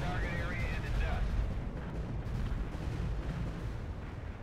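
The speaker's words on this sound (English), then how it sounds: "Artillery barrage turned the target area into dust." Artillery barrage explosions in the Cold War strategy game World in Conflict, a dense continuous rumble of booms and blasts rolling on throughout, with faint radio-style voices beneath.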